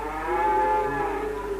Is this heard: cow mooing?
yes